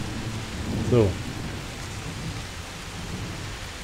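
A spring thunderstorm in the farming video game Professional Farming brings steady rain, and a single low rumble of thunder swells about a second in. A voice briefly speaks one word.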